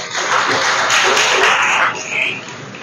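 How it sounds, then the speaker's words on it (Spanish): Applause breaks out from an audience at a Spanish-language Torah class, a dense wash of clapping that holds steady for nearly two seconds before thinning and fading. "Dale un aplauso al Creador."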